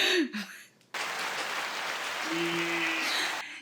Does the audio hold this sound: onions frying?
no